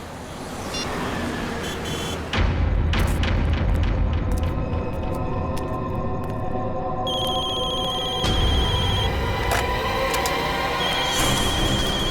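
Several telephones ring in a busy room, bright electronic ringing tones overlapping from midway on, after a heavy booming hit near the start and amid a dense, loud background.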